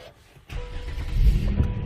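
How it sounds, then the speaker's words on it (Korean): A used, high-mileage Hyundai Equus engine cranks and catches after a brief quiet moment, then settles into a steady, close idle with a rising low rumble. "하여튼 시동 걸어볼게요."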